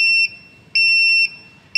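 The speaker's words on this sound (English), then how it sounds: "the indicator will produce a sound like this" A shrill electronic vehicle turn indicator buzzer, built on an RP2040 board, beeps in a steady on-off rhythm, four evenly spaced high tones, close and loud.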